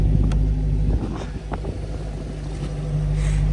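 A Dodge Hellcat Redeye Jailbreak being driven, heard from inside the cabin as a steady deep engine rumble with road noise and a few soft knocks and thumps.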